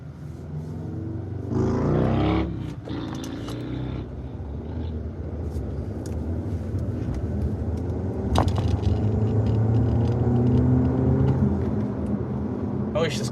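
A car's engine intake roars and rumbles while driving, a low droning hum that swells as the car accelerates, with a short burst of louder noise early on and a sharp crack partway through, under someone talking.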